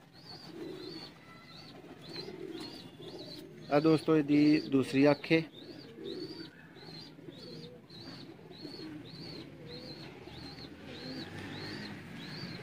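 Lightweight Lakha pigeons on a rooftop coo repeatedly in a steady rhythm throughout, with a burst of wing flapping partway through and someone talking underneath.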